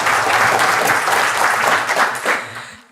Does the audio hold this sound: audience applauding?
yes